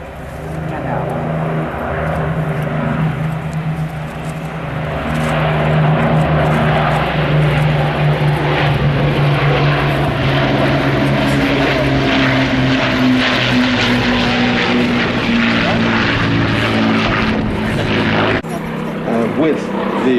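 Avro Lancaster bomber flying overhead at an air show, deep droning propeller engines swelling loud then shifting pitch as it passes, with a voice speaking over the roar.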